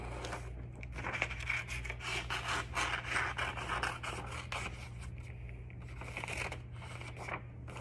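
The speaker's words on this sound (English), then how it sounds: "So I'm going to fold it in half and then cut it." A sheet is folded in half and then cut, giving a run of close rubbing and rasping paper-and-scissor sounds over a constant low hum, with no speech.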